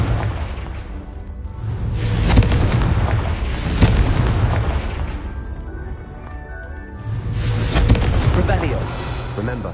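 Booming spell blasts from the Hogwarts Legacy video game, a fiery Confringo cast after an icy Glacius, with loud explosive bursts and whooshes layered over music and a speaking voice.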